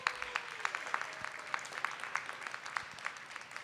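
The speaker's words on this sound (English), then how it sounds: "Give Ms. Jones a big round of applause." Elementary school audience applauds a librarian at an event with the mayor, a sparse, fairly quiet patter of individual claps with distinct sharp hand strikes spread through the room.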